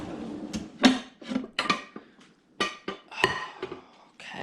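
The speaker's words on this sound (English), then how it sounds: "We're actually going to get a pan to fry them in." Metal pans clank and knock against each other as a frying pan is pulled out in a kitchen, a series of close, irregular sharp clinks and bumps with short pauses between them.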